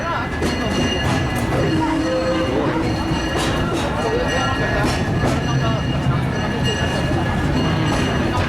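The Disneyland Railroad train rumbles steadily along the tracks, loud and close, with a continuous rattling roar and faint clanks throughout.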